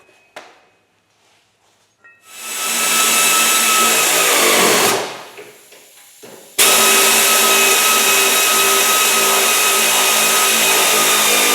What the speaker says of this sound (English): I'm just tack welding this bracket to the frame